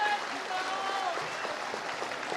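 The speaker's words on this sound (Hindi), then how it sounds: "जोरदार ताली" Steady applause from a large crowd at a Hindu religious gathering in Madhya Pradesh, a dense, even clatter of clapping lasting throughout with a faint whistle-like tone early on.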